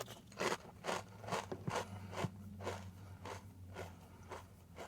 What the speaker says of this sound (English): let's try their fortune cookie.